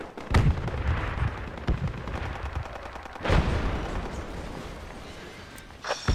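Artillery fire in the military shooter game Project Reality: heavy booming impacts near the start, in the middle and at the end, with a steady crackle of gunfire and battle noise between them.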